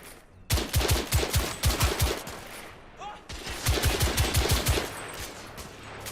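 Gunfire in a Victorian-era London shootout from The Order 1886, with rapid bursts of shots in two volleys split by a short pause, loud and close.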